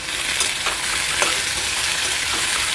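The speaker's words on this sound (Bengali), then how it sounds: "দিয়ে আমি কাঁকরেলগুলো ভালো করে ভেজে নেব" Spiny gourd (kakrol) pieces seasoned with salt and turmeric frying in hot oil, a steady close crackling sizzle with a few sharper pops, no voices.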